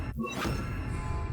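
Bombarda blasting spell in the Hogwarts Legacy video game striking its target: a short, loud crashing thud with a smashing, debris-like burst, all within a second.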